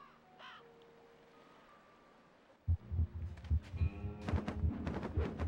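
Seagulls caw in the Psychonauts video game: a few harsh calls ring out early over a quiet ambient bed, then give way to loud, rhythmic thumping game sounds.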